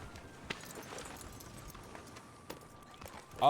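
Horse hooves clip-clop as a rider moves along in Red Dead, light evenly spaced hoofbeats at moderate distance over a faint background, with a louder burst of noise at the very end.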